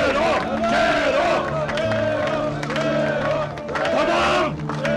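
Crowd at a campaign speech clapping and chanting in rhythmic bursts, with voices rising and falling over the applause, fairly close and busy throughout.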